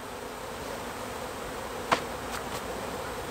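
Bees buzz around a birdhouse during a beekeeper's removal, a steady close insect drone with a brief sharp rise as one passes near.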